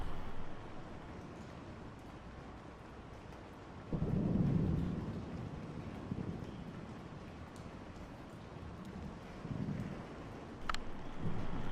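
Rain falls steadily in the video game Kentucky Route Zero while low rumbles of thunder roll in, one swelling near the middle and a softer one later, with faint wind under the storm.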